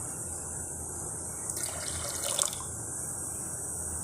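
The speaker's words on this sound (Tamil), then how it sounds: "இதுக்கு ஒரு 1/2 லிட்டர் தண்ணியாட்டம் ஊற்றிக்கலாம்." Water is poured into a pressure cooker holding washed lentils for radish sambar, a brief steady splashing stream heard up close that swells midway and then stops, with low kitchen background and no talking.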